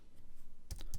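A short burst of typing on a computer keyboard: a quick run of close, crisp key clicks arrives after a near-silent lead-in and fills the last third of the moment.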